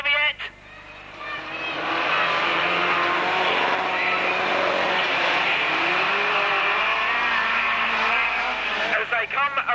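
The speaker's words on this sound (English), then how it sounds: "Stoney's trying to go around the outside as they race along the back straights" Racing vans at a 1991 Braintree Auto Club van meeting roar steadily around the track, a loud, sustained engine drone with shifting pitch, while a commentator talks over it.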